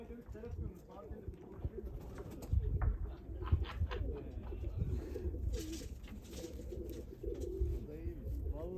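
Tumbler pigeons cooing in a flock flown in open countryside at Küçükköy, Ayvalık, soft repeated low coos with faint chirps, fairly quiet, with people talking in the background.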